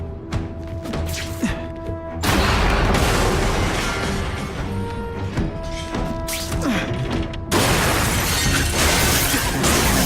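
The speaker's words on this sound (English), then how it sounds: "Heavy artillery you see in the combat zone." Heavy artillery explosions from The Amazing Spider-Man 2 video game, loud crashing blasts with shattering debris, one big hit after two seconds and another near the end over a continuous rumble.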